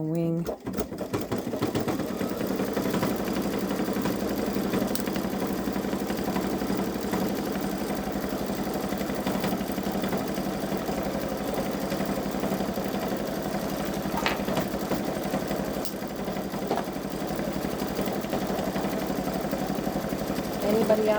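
A Babylock Solaris embroidery machine stitches an outline on a wing with a fast, steady mechanical whir and rhythmic needle chatter, running continuously close by while voices talk over it.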